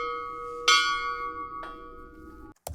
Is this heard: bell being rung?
yes